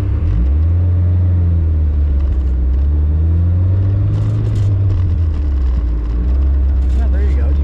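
A car rolls along in second gear just after a shift, its engine a loud, steady low rumble with gently rising and falling pitch, close up from inside the cabin.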